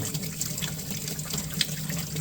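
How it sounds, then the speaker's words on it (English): Tap water runs steadily from a faucet over a paint brush being rinsed in a sink, a continuous close splashing wash with no voices. "I'm pushing real light on the hose here, on the faucet"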